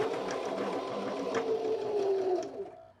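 A BabyLock Zeal BL35B sewing machine stitching along a folded fabric edge, a close, steady rapid whir of the needle running without pause for about three seconds before slowing at the end.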